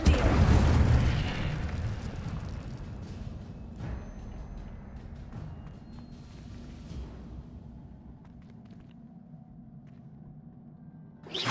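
Incendio fire spell cast in the Hogwarts Legacy video game, a loud burst with a deep booming rush at the start that fades into a long low rumble, with a few faint pops and whooshes following.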